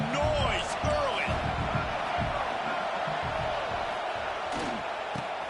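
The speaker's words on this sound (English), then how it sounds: "This crowd bringing the energy and noise early." Stadium crowd in a Madden 25 football video game, a dense roar of cheering with scattered whoops, steady and loud throughout, with voices talking over it.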